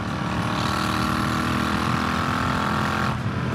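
A 2019 Royal Enfield Continental GT 650 motorcycle running at full throttle on a highway near 80, a loud, steady engine drone mixed with wind rush that drops off abruptly just before the end.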